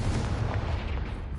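A Confringo blasting spell explodes in the video game Hogwarts Legacy, giving a dense, loud, low rumbling roar that fills the moment without a break. No voices are heard over it.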